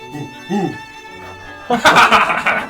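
A cat meows a couple of times in short, high calls amid laughter and excited talk, ending in a louder burst of noisy commotion.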